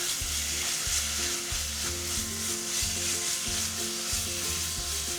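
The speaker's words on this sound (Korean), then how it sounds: "재워둔 고기를 모두 넣어주세요 그리고 중불에 달달 볶아주세요" Marinated pork for a spicy Korean duruchigi stir-fries in two tablespoons of cooking oil over medium heat, a steady loud sizzle with rhythmic scraping strokes of a utensil against the pan, no voices.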